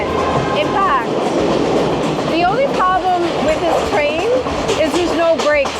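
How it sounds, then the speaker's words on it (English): Passenger train rolling along the tracks through lush Sri Lankan countryside, a steady rumbling clatter of the carriage heard from onboard, with people talking and voices over the continuous rail noise. "This train is awesome."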